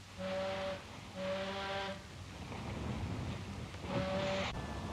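A ship's steam whistle aboard a WW2 wartime vessel sounds three long, loud blasts in sequence, with brief gaps between them over a steady hum of wind and sea.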